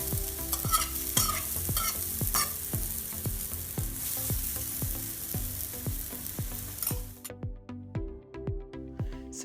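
Food for a South Sudanese dish being stirred and fried in a pot: a loud continuous sizzle with rhythmic scrapes of the utensil against the pot, and the sizzle falling away near the end, leaving sparse clinks.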